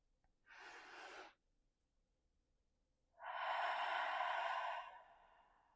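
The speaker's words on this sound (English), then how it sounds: "breathe in through the nose and out through the mouth" Two deep breaths close to the microphone during a guided meditation, a shorter breath drawn in through the nose, a pause, then a longer, louder exhale out through the mouth in a quiet room.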